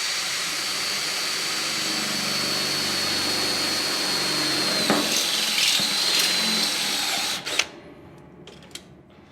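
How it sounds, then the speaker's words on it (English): A power drill whines loudly and steadily, its pitch shifting as the bit bites through sheet metal, then stops abruptly, leaving a few faint clicks and taps. "we're just gonna drill a hole in a piece of sheet metal here"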